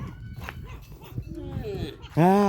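A dog barks at close range, a single loud harmonic bark at the end after quieter background yips, while people talk underneath.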